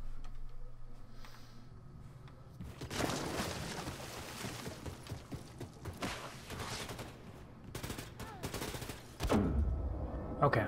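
Bursts of gunfire from a gun in the shooter game Wolfenstein II: The New Colossus, rapid and loud, coming in several clusters over steady game ambience with a heavier blast near the end.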